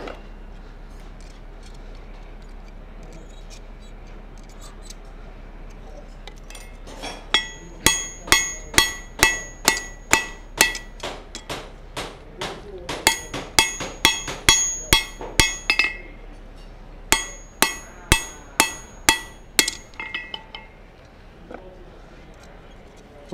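A blacksmith's hammer forges hot steel into a hammer eye drift, with bursts of loud, close, ringing metallic blows in quick rhythmic runs and a few brief pauses between heats.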